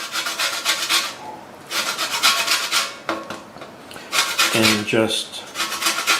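A fresh lemon rubbed against a grater to take off the zest, close rasping strokes in several bursts, with a brief word spoken partway through.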